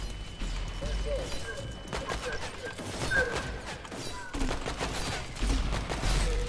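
Weapon fire in the shooter game ADACA, a scatter of sharp shots and impacts through a busy game mix, with someone talking over parts of it.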